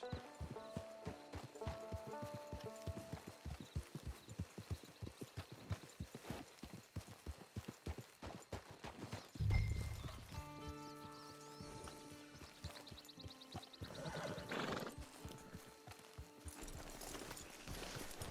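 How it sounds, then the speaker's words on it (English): Hooves of a walking horse clip-clop steadily, with creaking and rattling tack and a brief horse whinny partway through, fairly close, near a camp. "It's your horse."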